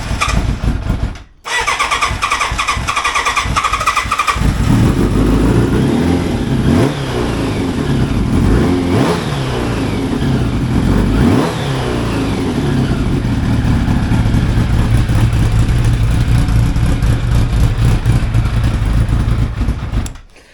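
A 1985 Yamaha FZ750 motorcycle on choke cranks briefly, catches after a short pause and settles into a loud, close idle with repeated rising and falling revs and a steady running engine throughout.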